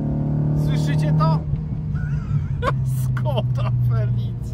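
A tuned Skoda Felicia with a 1.4 engine revs hard, a loud, steady engine drone that dips and shifts pitch partway through, with someone talking over it.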